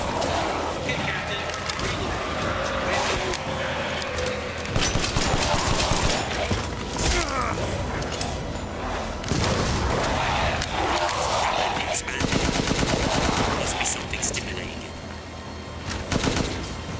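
Gunfire from a Resident Evil Village VR Mode bioweapon extermination battle, with repeated loud bursts and shots spread across a dense, busy game soundscape.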